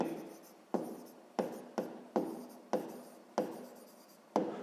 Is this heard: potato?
no